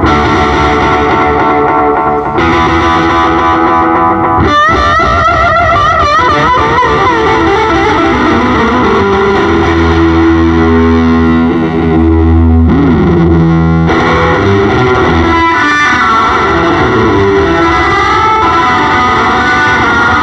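Electric guitar runs through a Catalinbread Belle Epoch Deluxe, an Echoplex-style tape echo pedal, producing loud, dense, repeating echoes with swelling, sliding pitches and a distorted wash that continues throughout without talk.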